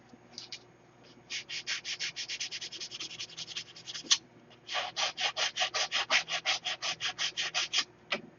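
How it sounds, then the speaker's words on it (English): Wood being sanded by hand with sandpaper, in a long run of quick, even rasping strokes, close and steady, broken by one short pause. "the biggest thing with sanding is knowing what grit sandpaper to use"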